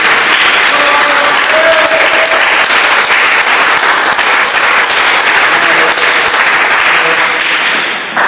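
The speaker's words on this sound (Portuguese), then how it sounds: "dê uma salva de palmas bem alegre para Jesus." A church congregation bursts into loud, dense applause at a worship service, clapping hard and continuously for several seconds before it tapers off at the very end.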